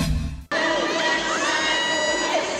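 Fans scream and cheer for the visiting cast of a GMA romance drama series in Davao City, a shrill, sustained crowd roar with children's shrieks, loud and continuous after a brief quieter lead-in.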